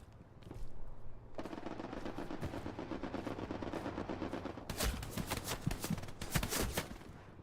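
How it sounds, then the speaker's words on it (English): Machine gun fire in an online war game, a sustained rattle of distant gunfire that swells into sharper, louder bursts of rapid shots near the end. "So figure out where this MG is."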